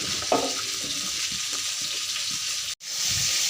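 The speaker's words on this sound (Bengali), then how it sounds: "তারপরে কচুর ডাঁটাগুলো দিয়ে দিব।" Taro stalks hit hot water and salt in a wok, setting off a loud, steady sizzle and bubbling hiss close up. A short clatter comes near the start, then a brief break before the sizzle resumes.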